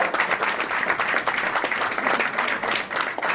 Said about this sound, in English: Vous applaudissez bien fort.